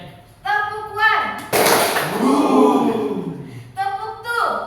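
Students in a classroom clap together in a routine, a dense burst of clapping lasting about two seconds between spoken cues from an adult voice.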